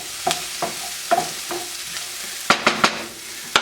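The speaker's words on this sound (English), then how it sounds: "I'm going to stir it up till it gets fragrant, about 30 seconds." Garlic and spices stirred in a frying pan, a spoon scraping in uneven strokes with a few sharp knocks near the end over a soft sizzle, close and without talk.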